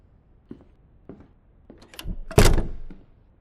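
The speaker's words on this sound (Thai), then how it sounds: "นอกจากเสียงประตูเหมือนมีเสียงอะไรบางอย่าง" A door in the video game Don't Drop The Cake gives a few soft, spaced thuds, then a louder slam-like burst that fades out after about a second.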